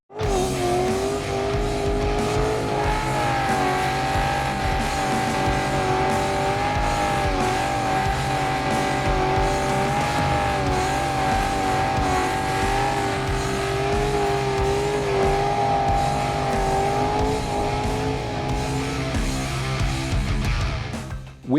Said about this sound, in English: us doing burnouts benefits you